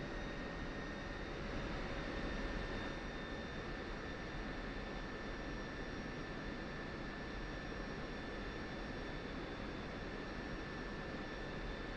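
A jet aircraft taxiing in the DCS flight simulator, Persian Gulf campaign: a steady, even engine roar with a constant high whine that holds unchanged throughout.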